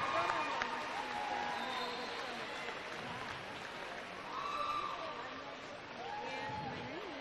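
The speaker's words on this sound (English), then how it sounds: "we're going to give out the Caitlin Chambers, big roar of applause." A loud, sustained roar of crowd applause and cheering fills a natatorium at a high school Class 4A state swimming and diving final, steady for about seven seconds with voices mixed into the noise.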